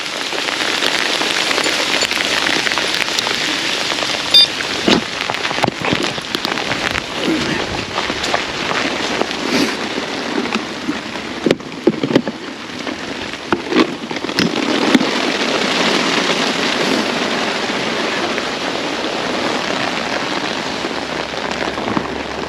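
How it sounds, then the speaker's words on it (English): Hail pelts a winter carp lake and the ground around it, a loud, dense, continuous clatter of hailstones with sharper impacts scattered through, heard close from under an angler's umbrella. "that hailstorm's passed"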